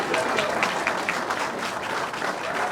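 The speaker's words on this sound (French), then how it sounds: "sous vos applaudissements" Steady, moderately loud applause from a crowd at a medal ceremony for the 9th Francophonie Games, a dense patter of many hands clapping continuously throughout.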